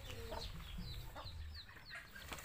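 Soft clucking and chirping from newly hatched chicks, a few scattered calls over a low background hum, fairly faint.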